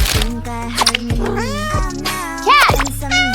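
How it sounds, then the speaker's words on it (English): A cartoon cat meows several times in quick succession, each cry rising and falling, loud and close over a steady musical backing. "Cat!"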